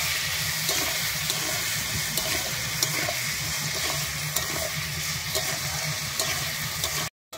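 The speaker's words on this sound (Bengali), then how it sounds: "দিয়ে আমি আলুটাকে লাল করে ভেজে নেব।" Potato pieces with salt and turmeric frying in mustard oil, a steady close sizzle with faint crackles and occasional stirring clicks, continuous throughout.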